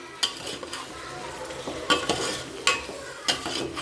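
A spatula stirs eggplant biryani masala frying in a pan. Steady crackling sizzle is broken by about five sharp scraping strokes at irregular intervals, close and fairly loud, with no voices.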